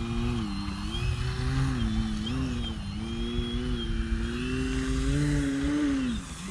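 An E-flite Extra 300 1.3 m 3D RC plane in flight, its electric motor giving a continuous droning whine that rises and falls in pitch with the throttle, steady and fairly loud throughout.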